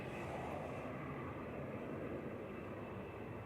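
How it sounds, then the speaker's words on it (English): An EasyJet Airbus A320neo arriving from Jersey at Manchester Airport gives off a faint, steady, distant engine rumble for a few seconds. "This is flight 728 for EasyJet,"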